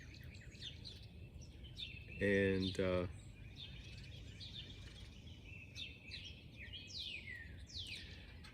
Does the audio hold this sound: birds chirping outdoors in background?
yes